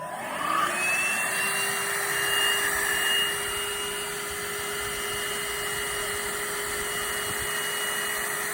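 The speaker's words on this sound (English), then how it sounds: "The vacuum cleaner is running now, and the lights stay on." A cordless, rechargeable vacuum cleaner runs continuously with a high, steady motor whine and airy rush, rising slightly as it spins up, with no voices.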